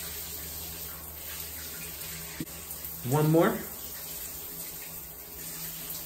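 A faucet runs steadily as hair is wetted, a soft continuous splashing hiss under a brief spoken remark.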